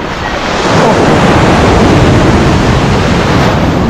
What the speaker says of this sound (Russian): Красивая волна была!